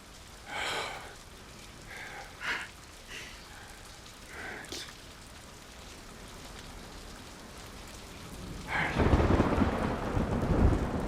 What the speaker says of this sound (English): The rain and thunder is such a good backdrop to this scene.